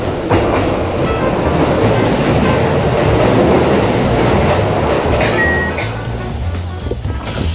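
Train rolling through a Tokyo railway station, a loud continuous rumble with rail clatter and a few high squeals near the end, no talking.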